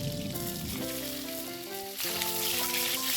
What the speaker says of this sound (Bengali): এবার কড়াইয়ে তেল দিয়ে তেলটা ভালো মতো গরম হয়ে গেলে পটলগুলো হালকা করে ভেজে নেব।